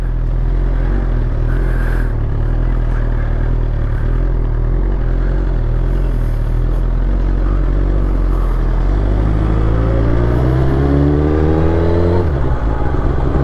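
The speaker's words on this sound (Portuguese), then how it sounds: "Deixei a moto esquentar um bocado, bora de modo C." A motorcycle engine warming up, idling with a steady low rumble and clatter, then revving up in a rising, accelerating whine near the end, close and loud, with no talk.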